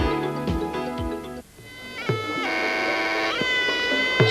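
A live traditional Thai orchestra plays for the Muay Thai warriors' dance, its reedy pipe melody wailing over steady drum and cymbal beats that drop out briefly midway before the tune swells back, loud and close with no talking.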